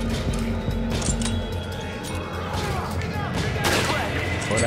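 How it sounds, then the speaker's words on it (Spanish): Rapid bursts of gunfire in Resident Evil 5 crackle continuously, dense and loud, with scattered sharper shots over a rumbling background. "Estoy fallando todos los disparos"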